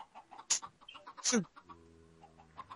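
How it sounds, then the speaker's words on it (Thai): A chicken in the Minecraft video game gives two short, bright clucks in quick succession, close and clear, with a low voice murmuring faintly in the background. "นี่คือไก่ที่เราเลี้ยงไว้นะครับ"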